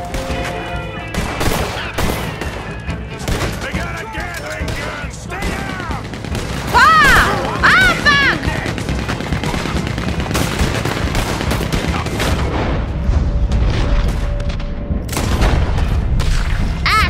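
A heavy machine gun and rifles roar in a sustained Red Dead Redemption 2 shootout at a bank, dense overlapping shots punctuated by deep booms, with shouting voices under the constant fire.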